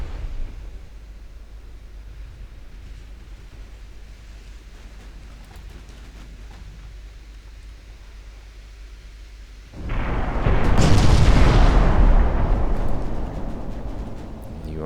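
Battleship main guns fire in Ultimate Admiral Dreadnoughts as a heavy, rumbling boom that swells suddenly over steady low background noise and then rolls on for several seconds.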